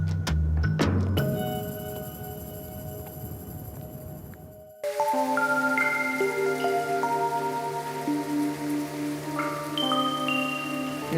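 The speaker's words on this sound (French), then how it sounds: "Il y a beaucoup de pluie là." Steady rain falls in the Amazon rainforest of French Guiana, a dense close hiss at first that cuts off midway and gives way to calmer wet ambience with drips and bird or insect tones.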